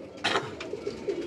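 Kasuri pigeons on a Karachi rooftop give soft, low coos, a few short repeated calls close by over a quiet background hum.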